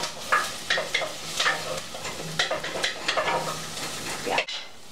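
Onions sautéing in a pan for a quick tomato sauce, a continuous close sizzle with repeated utensil scrapes and stirs in an irregular rhythm, ending with a sharp clank and the sound dropping away.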